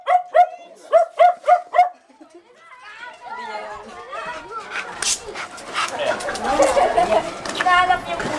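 A Chow Chow barks loudly about five times in a quick, even run, then stops while several people chatter and talk over a busy, noisy background.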